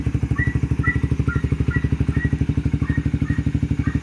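A Suzuki Raider FI motorcycle engine idles steadily and close by after being started on a battery that had run low, giving a fast, even, loud putter with light mechanical clatter throughout.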